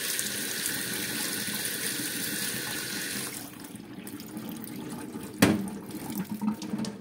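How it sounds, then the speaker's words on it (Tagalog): Cold tap water runs steadily onto cooked macaroni in a strainer, then cuts off partway through, leaving quiet kitchen noise with a sharp knock and a few light clatters. "inyo laang ho aring salain at patuluan sa malamig na tubig"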